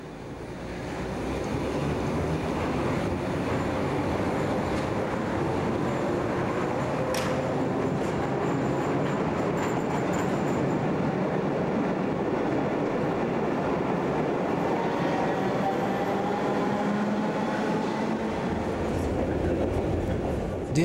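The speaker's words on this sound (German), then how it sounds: "Wieder eine historische Sonderfahrt, diesmal mit einem A2-Zug. Ausfahrt im 100-jährigen Bahnhof Wittenbergplatz." A historic Berlin U-Bahn type A2 train from 1928-29 rumbles steadily as it pulls out of Wittenbergplatz station, a continuous loud rolling roar with faint squeals and clatter throughout.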